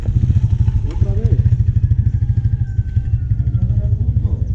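A motorcycle engine revs and pulls steadily as it accelerates up a slope, a loud, continuous low throb close by with a rhythmic pulsing; a voice speaks over it briefly.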